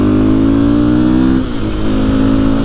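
A KTM 500 EXC supermoto motorcycle engine runs loud and close, a rich buzzing drone that wavers and dips briefly midway before settling back to a steady idle.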